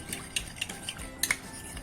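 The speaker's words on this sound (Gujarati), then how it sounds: "આ બધું આપણે એકદમ આ રીતના ફેટી લેવાનું છું" Fafda dough made with oil and water is beaten by hand in a bowl, giving a series of soft slaps and clinks against the bowl in an irregular rhythm, close and fairly quiet.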